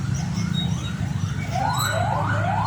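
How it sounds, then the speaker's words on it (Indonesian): An ambulance siren rises repeatedly in quick sweeps over a steady engine rumble, sounding fairly close and growing more prominent toward the end. "Itu ada suara ambulan"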